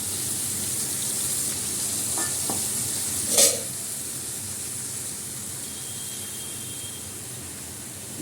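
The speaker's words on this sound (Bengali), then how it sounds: "আমার আলুটা ভাজা হয়ে গেছে, আমি মশলাটা দিয়ে দিলাম" Spices go into a pan of fried potatoes, producing a soft, steady sizzle with a couple of light utensil taps and one brief louder clatter near the middle, no talking.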